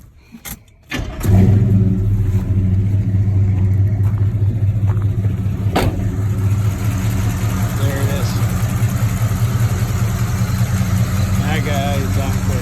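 Chevy C10 pickup with a new engine cranking briefly, catching and then settling into a loud, steady, rumbling idle close by.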